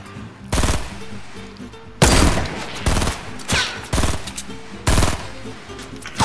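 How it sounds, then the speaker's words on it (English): Hunting rifle shots in Fortnite, five or six loud, sharp cracks spaced about a second apart, each with a brief ringing tail, and no voices between them. "he was trying to shoot him with the hunting rifle"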